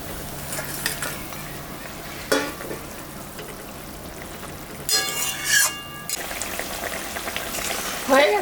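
Fish pieces going into a simmering Bengali fish curry, brief bursts of sizzling and bubbling with clinks of a pot and spoon between quieter stretches of low simmer, close by.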